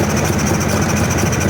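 An old Polaris 400cc two-stroke ATV engine idles loudly and steadily with a rough, buzzy running tone, sounding weak and short on power.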